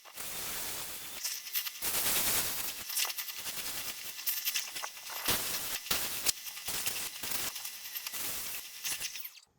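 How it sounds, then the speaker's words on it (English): A belt sander grinds upcycled wood purse panels into shape in a harsh, rasping roar that surges and breaks off as the piece is pressed on and lifted away, loud and close, with no voices. "take it over to the belt sander and get these more shaped to what I want"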